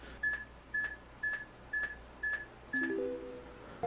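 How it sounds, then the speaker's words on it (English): Six evenly spaced electronic beeps from a timer used for Pokémon Gen 3 reset timing, about half a second apart, followed by a short rising jingle of tones; fairly faint with a quiet hum beneath. "you're going to hear those beeps"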